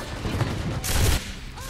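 Gunfire in the World War II first-person shooter game Enlisted: a rumbling battle backdrop with a loud, sharp burst of shots near the middle before it fades back down.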